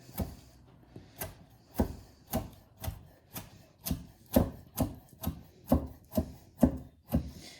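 A knife chops rolled pizza dough into ribbons on a board with about fourteen sharp, evenly spaced thuds, close and clear, and nothing else heard between strokes.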